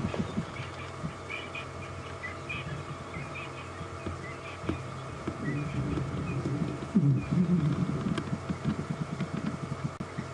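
Francolins call from a distance over a low engine hum, harsh repeated notes building toward the end amid outdoor background noise.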